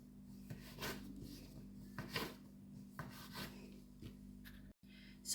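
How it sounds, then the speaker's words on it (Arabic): Hands rolling soft, moist dough into small balls on a lightly floured work surface, soft repeated rubbing and rasping strokes, close and quiet, over a low steady hum. "غادي نديرو هكا كويرات، نديرو هكا على سطح العمل اللي فيه شويه ديال الدقيق"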